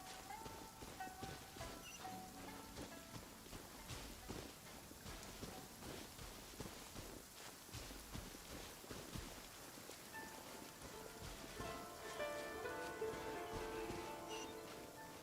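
Steady rain falls in the game Genshin Impact, a dense continuous patter of drops on surfaces that swells slightly louder toward the end, with faint soft tonal game sounds in the background and no talking.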